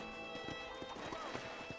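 Horse hooves clip-clopping in Red Dead Redemption, a rapid uneven run of hoofbeats with a steady game music drone behind and faint voice-like sounds.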